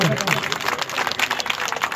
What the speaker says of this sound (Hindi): जोरदार तालियां बजा के उनका स्वागत करें